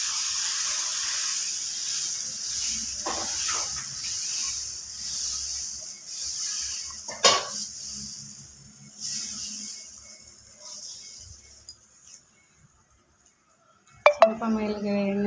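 Moong dal dosa batter hits a hot iron griddle with a steady broad hiss running throughout, a few faint clinks and taps along the way, and a sharper burst of sizzle near the end.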